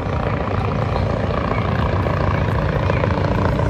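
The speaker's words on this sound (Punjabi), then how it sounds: "ਹੈਲੀਕਾਪਟਰ ਆ ਗਿਆ" A helicopter flies over the Calgary Stampede fair in Canada, its loud, close rotor chop and engine roar droning steadily throughout.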